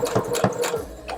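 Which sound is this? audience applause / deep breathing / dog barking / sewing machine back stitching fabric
sewing machine back stitching fabric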